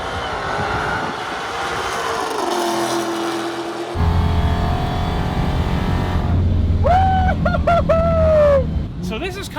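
A Dodge Demon 170 accelerates hard in a roll race from third gear, its engine roaring loud and close and climbing in pitch through quick gear changes, with voices talking over it.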